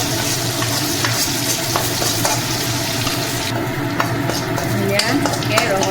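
Manipuri onions and bay leaves fry in hot oil, stirred in a pan, with a dense continuous sizzle and regular scraping strokes close by. Running water briefly joins partway through.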